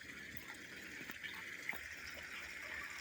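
A water pump runs outdoors in a garden, moving water to melt ice, giving a faint, steady gushing hiss with a few small splashes and knocks.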